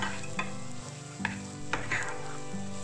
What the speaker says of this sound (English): add the chopped ginger and garlic and sauté until it blends well with the mix